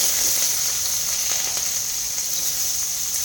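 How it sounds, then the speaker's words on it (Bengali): Chopped onion and green chili sizzle in hot oil with a loud, continuous close hiss that holds steady throughout and carries no talk. "দিয়ে দেবো এরপরে কাঁচা লঙ্কা কুচি, দিয়ে দেবো পেঁয়াজ কুচি।"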